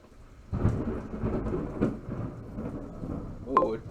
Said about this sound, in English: Full on thunder and lightning outside.